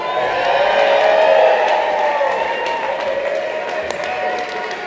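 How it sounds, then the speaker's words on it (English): Audience at a ski touring talk about the Tyrol, Austria and Italy, giving a sustained round of applause with scattered whoops and cheers, fairly loud, over a shouting voice. "one more round of applause"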